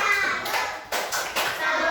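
Schoolchildren chant "salut" in unison while clapping in rhythmic bursts, their voices close and lively between the claps.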